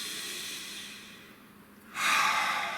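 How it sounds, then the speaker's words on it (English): A single slow, deep breath drawn in softly and then let out as a louder, breathy exhale, close and alone with no talking. "Nice deep breath."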